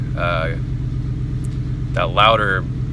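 A deep, steady engine rumble from the 5.0 V8 exhaust of a 2015 Ford F-150 pickup with resonator and muffler deleted runs throughout, with two brief bursts of speech over it, the second coinciding with a slight swell in loudness as it revs.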